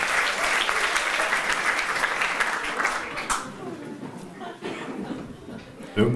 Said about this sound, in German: Okay, und wenn wir jetzt einfach alle einmal klatschen